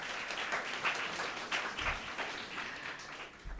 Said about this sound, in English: give a hand clap for that